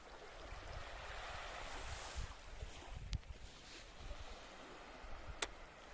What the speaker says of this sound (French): La mer.